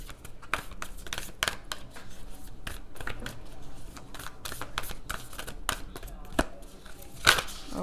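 Tarot cards are shuffled by hand at close range, a string of quick papery riffles and taps with an irregular rhythm, ending on one sharper snap.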